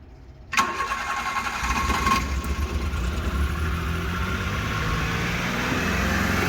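A kei truck's small engine catches after a short silence and then runs steadily at a high, racing idle, loud and close, with no voices.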